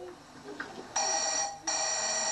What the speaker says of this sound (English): Why don't you answer the phone, Gary?